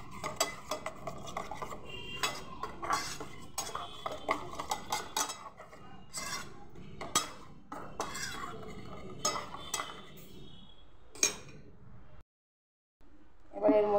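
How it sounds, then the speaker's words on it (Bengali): A spoon stirs eggs, mustard paste and mixer rinse water in a bowl for Bengali steamed egg curry, giving close, repeated clinks and scrapes at an uneven pace, then a brief silent pause near the end. "দিয়ে এটাকে ভালোভাবে এখন মিশিয়ে নেব"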